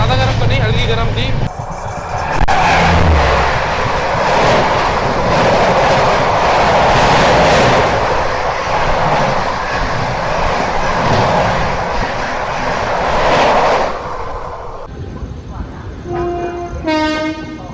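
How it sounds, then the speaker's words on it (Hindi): A passenger train, the Bhubaneswar Duronto Express, pulls out of Kanpur Central railway station, heard from on board as a loud continuous rumble and rattle of wheels and carriages, with the horn and voices near the end. "अभी अपनी ट्रेन निकल चुकी है कानपुर सेंट्रल रेलवे स्टेशन से"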